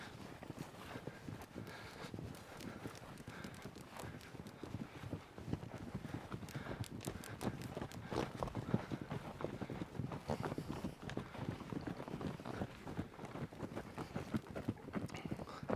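Trail horses walk along at Harriman State Park, their hooves clip-clopping in an irregular, continuous rhythm at moderate distance, with light wind and faint voices in the background.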